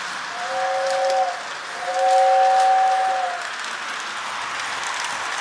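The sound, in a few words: toy holiday train set running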